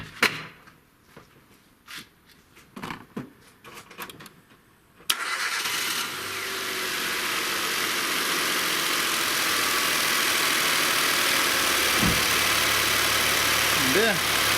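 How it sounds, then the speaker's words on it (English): A car engine turns over and catches when jump-started with an Oittm 1500A jump starter: scattered clicks and knocks first, then a sudden start that settles into a steady, close idle that grows slightly louder. "it's worked. The car started."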